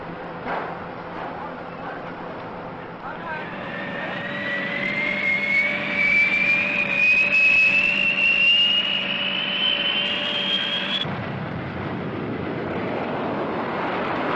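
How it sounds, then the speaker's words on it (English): A B-58 bomber jet flies past, its engine roar building into a loud whine that rises in pitch, then cuts out abruptly and gives way to a broad rushing noise. "Also part of this massive strike force is the B-58."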